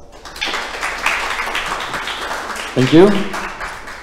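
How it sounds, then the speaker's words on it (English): A meetup audience gives a short burst of applause, a dense patter of clapping that fades before a single voice speaks at the end. "big round of applause"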